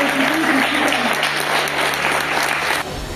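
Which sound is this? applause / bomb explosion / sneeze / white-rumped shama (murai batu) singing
applause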